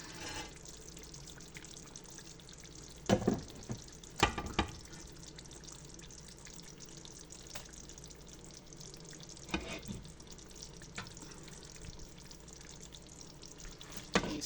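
Curried tofu and melon skin simmer in a pan with a faint, steady bubbling sizzle, broken by a few soft clinks and stirring knocks.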